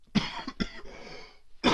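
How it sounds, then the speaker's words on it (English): A person coughs in two or three short, harsh bursts, then coughs again more loudly after a brief pause, close to the microphone with no speech around it. "And I'm sorry if I cough."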